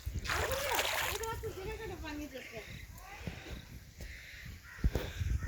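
Water splashes and sloshes as people wade into a cold farmland canal, a steady close wash of splashing with voices talking over it and birds calling in the background.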